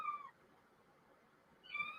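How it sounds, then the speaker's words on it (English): An orange tabby cat meows twice, one short call at the start and a second after a quiet pause, close by and fairly faint against a low room hiss. "There is the cat."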